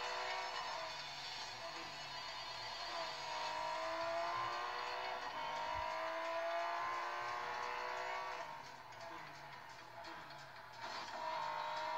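A Porsche racing in a video game played on a Xiaomi Mi Pad 4 Plus tablet, giving a continuous engine whine that rises and shifts pitch through gear changes, steady and moderately loud with no speech.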